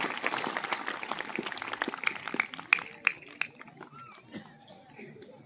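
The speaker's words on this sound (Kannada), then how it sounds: "ಜೋರಾದ ಚಪ್ಪಾಳೆಯೊಂದಿಗೆ ನಮ್ಮ ಕಮಿಟಿ ಜನರಿಗೆ ನಾವು ಗೌರವಿಸ್ತೇವೆ" An audience at a Basava Purana religious discourse breaks into applause for the organizing committee, dense clapping that thins into scattered claps while a voice speaks over it.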